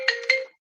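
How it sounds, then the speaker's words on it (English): A phone ringtone sounds in two quick bright chirps over a steady tone, close and clear, then cuts off into silence with no voices. "I'm sorry about the phone."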